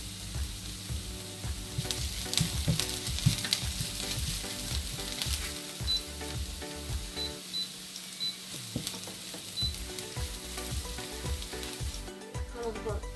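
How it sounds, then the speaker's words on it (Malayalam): Onions sautéing in oil in a pan for a Kerala cherupayar (green gram) thoran, a steady close sizzle with scattered stirring clicks and scrapes running throughout. "സവോള നന്നായിട്ട് വഴണ്ട് വന്നിട്ടുണ്ട്."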